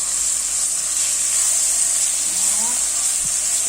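Sambal seasoning sautéing in hot cooking oil sizzles in a loud, continuous, close hiss, with a faint voice briefly underneath.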